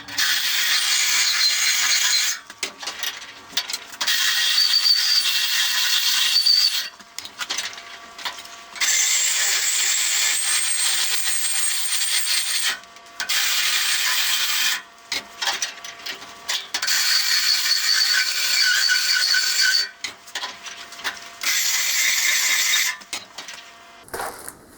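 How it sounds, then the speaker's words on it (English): A drill spins an abrasive stone against metal, smoothing the inside of MIG welds on a steel oil filter wrench, a high grinding whine in repeated bursts of several seconds separated by short pauses. "I'm just going to use an abrasive stone on a drill."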